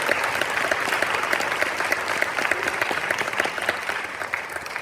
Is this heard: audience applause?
yes